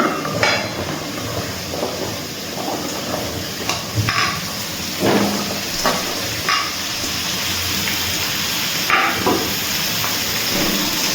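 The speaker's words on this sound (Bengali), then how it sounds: "এবার আমি দিয়ে দিচ্ছি কেটে রাখা ঝিঙেগুলো।" Chopped ridge gourd hits a pan of hot spices with turmeric and Kashmiri chilli, giving a steady close sizzle with scattered clicks and scrapes of a spoon against the pan for a jhinge aloo posto curry.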